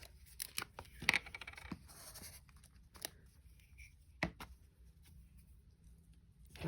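Scissors snipping Christmas paper ephemera close up, a series of quiet, sharp cuts at irregular intervals with soft paper rustling between them.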